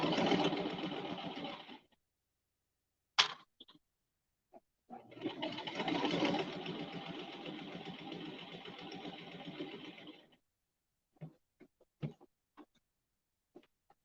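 A Brother 1034DX serger runs in two bursts through fabric for hats and scrunchies, a close mechanical whirr of about two seconds and then a longer five-second stretch, with scattered small clicks and taps between and after.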